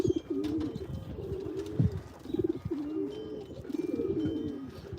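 Doves coo outdoors in repeated soft, throaty phrases that roll on steadily over several seconds, close and clear with no talk.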